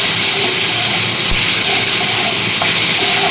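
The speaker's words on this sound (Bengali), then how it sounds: "পেঁয়াজটাকেও হালকা লালচে করে ভেজে নেব।" Sliced onions frying in hot oil for egg chop, a steady loud hiss and sizzle running continuously without pause.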